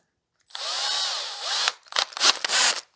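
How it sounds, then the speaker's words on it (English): A power drill whirs steadily for about a second, then several short bursts of drilling follow in quick succession, close and clear. "with my power drill, just for convenience sake."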